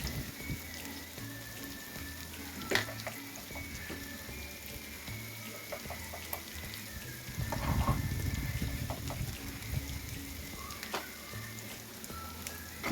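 Chopped onion, garlic and green chili fry in a pan of oil, producing a continuous soft hiss with light patter and occasional clinks, fairly quiet and unbroken by speech.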